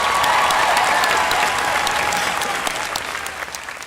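Dense, steady applause from a large crowd at a high school graduation ceremony, loud and continuous throughout, tapering slightly toward the end with occasional cheers.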